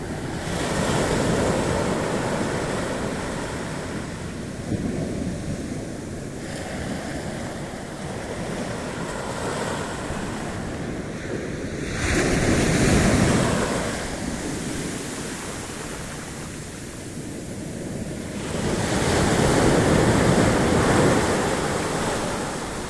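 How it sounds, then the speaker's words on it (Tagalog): Ocean waves roll onto the beach at San Juan, La Union, a loud continuous wash of surf that swells and recedes in several surges, mixed with wind buffeting the microphone. "Ayan po yung alon."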